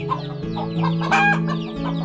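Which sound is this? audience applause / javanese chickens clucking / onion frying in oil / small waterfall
javanese chickens clucking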